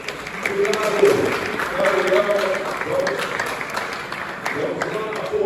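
Applause from the audience at an automotive engineering talk show, steady clapping mixed with crowd murmur and voices talking over it throughout.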